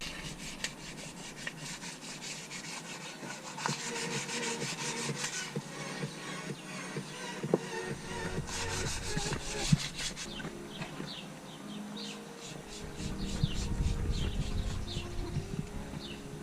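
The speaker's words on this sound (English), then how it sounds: "I'm just gonna start sanding down and see what it looks like." Sandpaper rubbing paint off a brake caliper, a continuous close scratchy rasp in repeated back-and-forth strokes, louder and coarser toward the end, with no talking.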